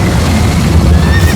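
Horse whinnying in the Minecraft: Story Mode video game during a chase, a loud continuous neigh with game noise underneath, no talking.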